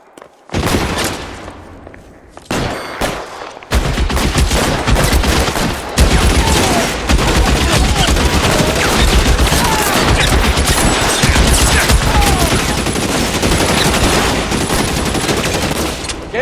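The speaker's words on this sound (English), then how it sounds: "Lay down some covering fire" Covering gunfire in the video game L.A. Noire, with sustained loud volleys of rapid shots and machine-gun bursts that start after a short quiet moment and run almost without pause.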